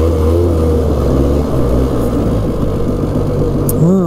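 The engine of a 2000 Polaris Xplorer 400 4x4 ATV drones loudly and steadily up close on a top speed run in high range with all-wheel drive engaged, its pitch rising slightly toward the end.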